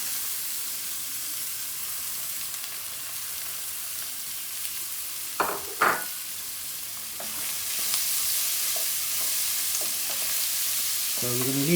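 Three small diced onions sizzle steadily in a hot pan for a beef shatkora curry, a soft continuous frying hiss broken by a few scraping stirs of the spoon midway and near the end.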